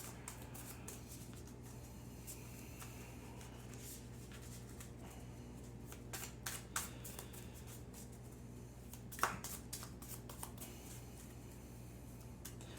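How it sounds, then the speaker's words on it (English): A deck of Lord of the Rings card game cards being shuffled by hand, soft repeated riffling and tapping heard up close and quiet over a steady hum, with no talking. "So we're going to go ahead and give this a nice little shuffle here."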